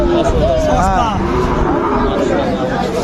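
Sahiwal calves and cattle at a busy cattle market. One drawn-out moo rises near the start, surrounded by constant crowd chatter and nearby talking.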